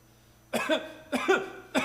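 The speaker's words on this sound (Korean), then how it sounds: "목사님이 원하지 않는데 기침이 계속 나오는 일이 있잖아" Three short, dry coughs from one person during a Sunday church sermon, close by, spaced roughly half a second apart in a quiet room.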